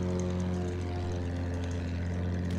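Propeller-driven warplane engine droning in the Battlefield 1 video game, a steady loud hum with strong low harmonics holding throughout, close and continuous.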